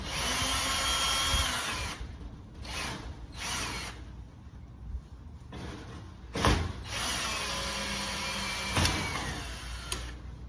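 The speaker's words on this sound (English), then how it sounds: "And now if I can get right up in there and unscrew them." A power drill running in reverse to back out screws from a screen door, several close, loud whirring bursts of varying length separated by quieter pauses and small clicks.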